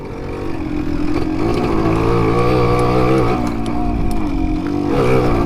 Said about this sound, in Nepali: सो यो बाइक चलाएर हिँड्न नि मजा आउँछ.